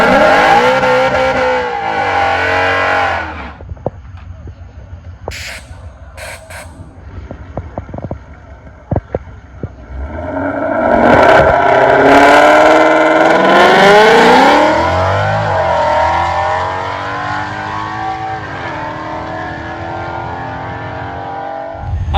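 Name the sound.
2017 Mustang GT with nitrous doing burnout on drag strip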